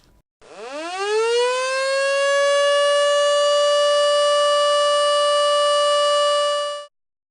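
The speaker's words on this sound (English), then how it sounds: "here's an example of what it would sound like when we alert for the emergency alert system" An emergency alert system siren sounds as a single loud, steady high-pitched tone that rises quickly to full pitch, holds unbroken for about six seconds, then cuts off sharply, with no voices.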